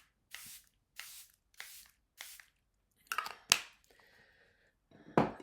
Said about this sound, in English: I'm going to go in with my Charlotte Tilbury spray at this point.